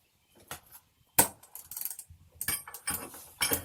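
Breaker bar with a socket working a stubborn bolt while stripping down an ambulance for an RV conversion, giving sharp mechanical clicks, creaks and metallic knocks in uneven bursts, close and fairly loud, with no talking.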